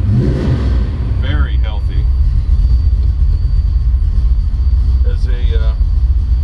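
A 1959 Ford Ranchero 500 with a Roush 342ci V8 and five-speed idles with a loud, deep, steady rumble close by while someone talks over it.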